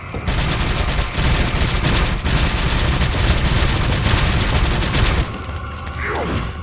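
Sustained automatic gunfire in Resident Evil 4, a dense rapid stream of shots lasting about five seconds, loud and close, then cutting off into quieter game ambience.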